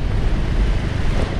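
Storm-surge sea waves churn during Typhoon Goring in flooded Bacolod, a dense, steady wash of water and wind roar with no pauses, close and fairly loud.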